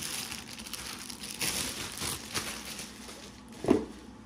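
Close plastic crinkling and rustling of a plastic bag wrapped around a rifle scope, in irregular bursts, with a sharper crackle near the end, no voices.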